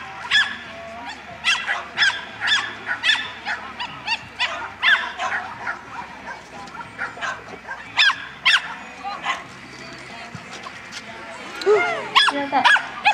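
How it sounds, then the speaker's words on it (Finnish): Dog barking in repeated sharp bursts while running, loud and fairly close, with short gaps between barks and some background noise. "lujaa haukkuen mennään"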